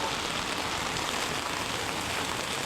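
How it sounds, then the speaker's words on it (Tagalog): Steady rain falls at night as an even, soft hiss of drops on surfaces, continuous and moderately faint with no voices. "Guys, umuulan."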